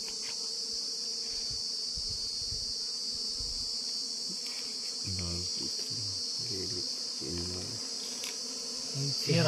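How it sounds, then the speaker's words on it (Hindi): Honey bees buzz continuously around a hive in Chhattisgarh, a dense, steady, high drone close by, with someone speaking briefly in the background. "ये रहा बहुत ज्यादा मधुमक्खी"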